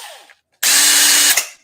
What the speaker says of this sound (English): This is a seriously impressive brushed drill.